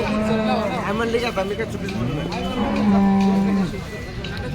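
Cows low repeatedly at the Sangola cattle market, long drawn-out moos overlapping close by, with a murmur of crowd chatter in the background.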